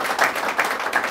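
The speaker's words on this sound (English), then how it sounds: "Let's give him a round of applause." Studio audience at a talk show clapping steadily, a brief burst of applause at moderate loudness with no talk over it.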